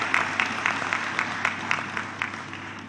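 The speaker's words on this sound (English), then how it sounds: "I invite another round of applause for our wonderful teachers" Applause rings out for the teachers at a high school graduation ceremony, a crowd clapping steadily in a rhythmic, even patter at moderate volume across the whole stretch, with no talk over it.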